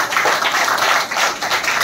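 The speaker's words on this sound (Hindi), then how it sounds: "तालियां बजाओ जोर से अपने लिए" Schoolchildren at a government primary school clapping loudly for themselves, a dense sustained burst of applause from a group close by, steady throughout.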